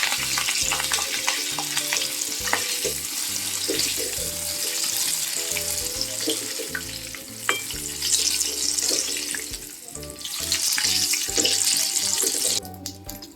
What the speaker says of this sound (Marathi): आता ही मिरचीला अशी मधून स्लीट दिली आहे आणि अशी तळून घेते मी